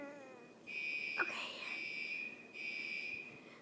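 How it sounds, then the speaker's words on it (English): A home fire alarm going off indoors, a sustained high electronic tone that drops out briefly and resumes, fairly faint, with a short sharp knock near the start. "think our fire alarm is going off and I'm scared"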